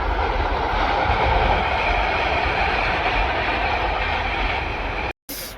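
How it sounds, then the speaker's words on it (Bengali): A train rolls past near a flower garden at Khirai outside Kolkata, a loud, steady rumble of rail cars with clickety-clack running almost the whole time before cutting off abruptly at the end. "ট্রেন যাচ্ছে"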